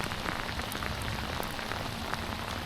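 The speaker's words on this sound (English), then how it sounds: "But this rain is really coming down now." Heavy rain pours outdoors beside a dam, a dense steady hiss of drops hitting water and surfaces, with scattered louder splats, close and unbroken.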